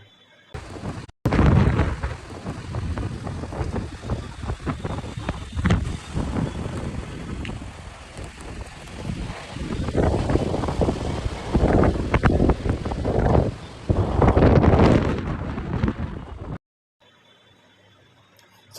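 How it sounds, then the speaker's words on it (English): Violent storm winds roar through Delhi in a long, loud, continuous gusting rush with surging peaks, no voices heard. "how badly that storm struck Delhi"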